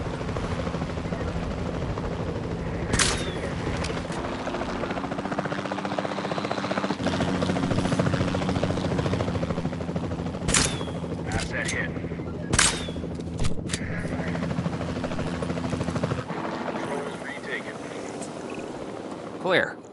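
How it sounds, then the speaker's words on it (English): A capture team helicopter in Jurassic World Evolution 2 drones steadily through the whole stretch, its rotor hum joined by sharp bangs of tranquilliser fire from the air and game sound effects. "Then the sensible thing is to take a capture team helicopter."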